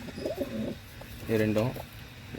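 Pigeons in a cage give two rounds of soft, throaty cooing, a shorter call followed by a fuller, louder one, close by with a faint background hum.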